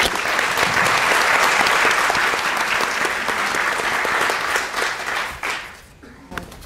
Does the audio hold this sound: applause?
yes